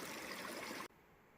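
Steady broadband rush of a mountain trail stream flowing in mid-July, loud and close for most of the moment, then cutting abruptly to a much quieter outdoor background.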